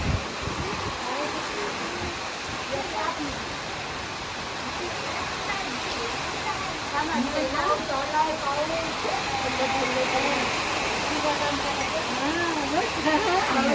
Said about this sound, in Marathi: अचानक एवढा पाऊस आला की सांगायलाच नको